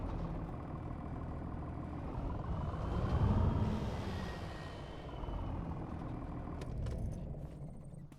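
Tractor engine in a farming video game drones steadily at a low, rumbling level, swelling slightly louder midway before settling back, with faint mechanical clicks near the end.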